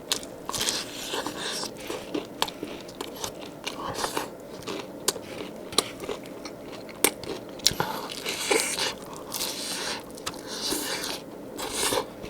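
Someone bites into and chews KFC God yangnyeom fried chicken breast up close, making repeated crisp crunches and wet chewing over about twelve seconds with no talking.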